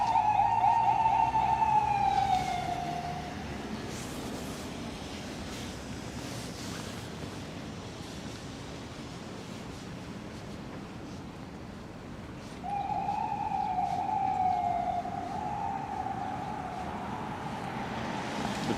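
Emergency vehicle siren wails, rising and falling nearby on a street in Fort Greene, Brooklyn, New York City, fades out into a steady rushing roar, then returns with a similar wail several seconds later.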